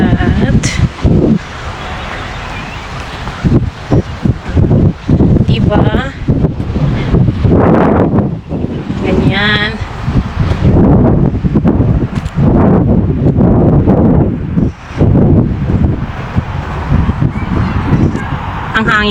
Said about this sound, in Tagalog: Naririnig mo talaga yung hangin.